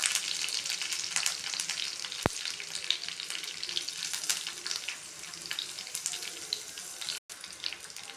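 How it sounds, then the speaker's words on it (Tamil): Mustard seeds spluttering in hot oil with curry leaves, a dense, even crackle and sizzle throughout with scattered sharp pops, close and moderately quiet. "இப்போ பாருங்கள் ஃப்ரெண்ட்ஸ், கடுகு பொரியுது."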